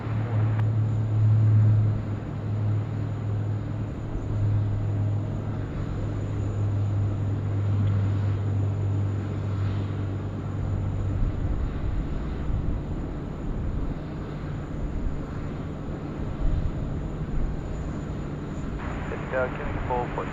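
A Singapore Airlines flight 211 airliner landing on runway 34 left at Sydney Airport, heard as a steady, broad roar with low engine drone throughout, under intermittent radio chatter.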